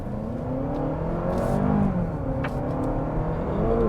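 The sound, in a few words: 2023 Honda CR-V Hybrid pulling away and accelerating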